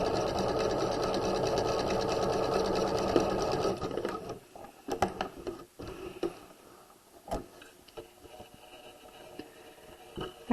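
A sewing machine back-stitches along a dart leg, running in a fast even whir for about four seconds, then gives way to quieter scattered clicks and fabric handling.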